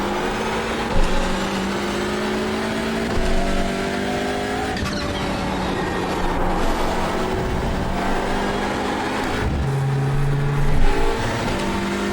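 A Hyundai Elantra TCR race car, bent from contact, drives hard during a race, its engine a loud close drone rising and dropping through gear changes, with brief tyre squeal and other cars around it.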